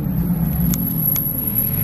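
A Porsche GT3 engine and exhaust idles and rumbles loudly and steadily nearby, with dense low throb and a couple of sharp crackling pops.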